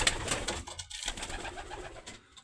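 Young pigeons coo softly and repeatedly in a loft, several birds overlapping with rustling in the background.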